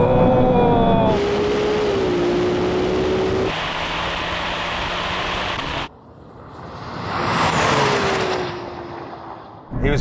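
A Porsche 911 Turbo S and a Ferrari 296 launch side by side in a drag race, engines roaring and shifting through rising and falling pitch, then dropping away before a loud surge returns as the cars pass.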